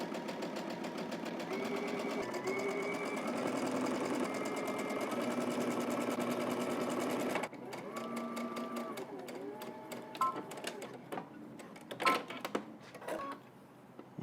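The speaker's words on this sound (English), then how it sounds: "let's head to the machine and let's stitch all of them to create that pin tuck" A sewing machine runs steadily for several seconds stitching pin tucks on pant pieces, then slows into shorter start-stop bursts with small clicks and handling noises, close and fairly quiet.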